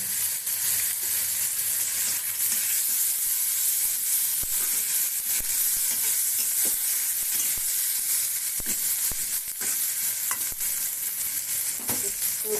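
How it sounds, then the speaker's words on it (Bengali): Ginger and garlic frying in a pan of cooking greens, a steady bright sizzle with occasional stirring scrapes that stays loud and continuous throughout, with no talking. "তো আমি এখন আদা রসুন দিয়ে দিচ্ছি।"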